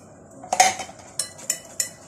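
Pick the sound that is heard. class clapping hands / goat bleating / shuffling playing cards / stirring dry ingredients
stirring dry ingredients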